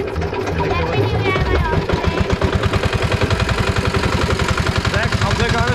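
A boat engine runs loudly and close aboard a river crossing boat heading to Sabuj Deep, a rapid steady chugging throb with voices talking over it.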